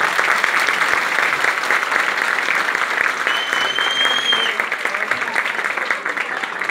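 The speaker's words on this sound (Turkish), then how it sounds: "Kuvvetli bir alkış rica ediyorum kendilerine." Sustained applause from the audience at a village iftar gathering, a dense, even clatter of many hands clapping throughout, fairly loud and continuous with no break.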